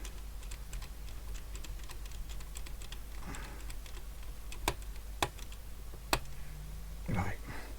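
A screwdriver makes scattered small clicks and ticks while fitting the landing gear on a Mk1a Spitfire model, close and faint, with a few sharper snaps and a brief soft voice near the end.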